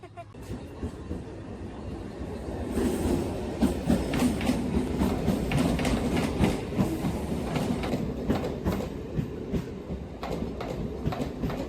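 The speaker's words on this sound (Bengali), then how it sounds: "আমরা তো স্টেশনে পৌঁছে গেছি ট্রেনটা কলকাতা থেকে মানে শিয়ালদা থেকে এলো" A train from Sealdah pulls into a station in winter, its wheels giving a steady rumble and clickety-clack that rises and holds, with a faint babble of people and a voice talking nearby.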